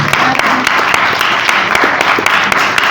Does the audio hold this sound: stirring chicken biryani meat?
no